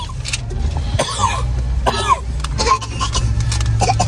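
Repeated coughs and throat clearing come from people sitting in a car at a fast-food drive-through. The coughs are close and loud over a low idling engine hum.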